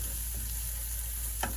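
Spices such as paprika, oregano, cumin and cayenne sauté in a skillet for a vegetarian taco dish, giving a soft steady sizzle with one brief scrape near the end and no voices.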